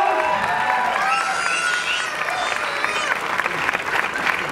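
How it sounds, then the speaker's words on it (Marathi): Steady, full audience applause at a Marathi film trailer launch event welcomes the producers onto the stage, a continuous crowd of clapping hands with faint voices mixed in throughout. "टाळ्यांच्या गजरात स्वागत करूया या चित्रपटाच्या निर्मात्यांचं"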